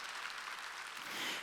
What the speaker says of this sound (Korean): 박수 치려면 지금 하려고